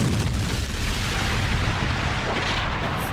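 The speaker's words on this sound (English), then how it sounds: "He fires missiles as well to totally eradicate Sonic." Cartoon missiles launching and exploding, a dense continuous roar of booming blasts and rumbling detonations that fills the whole stretch loudly, with no voices over it.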